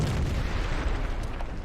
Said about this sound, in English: And he calls in artillery on me